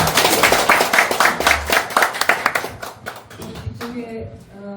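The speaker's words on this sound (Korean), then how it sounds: "박수 한번 주십시오." An audience claps for a guest speaker at a talk on the novel Honbul and Namwon, irregular hand claps building and then thinning out, with some voices mixed in toward the end.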